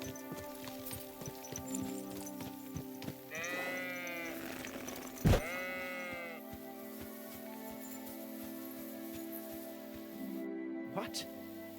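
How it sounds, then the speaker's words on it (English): A sheep bleats in Kingdom Come: Deliverance II, two wavering, fairly close bleats in the middle of the stretch over steady game ambience, followed by a sharp thud. "Oh, that is a sheep."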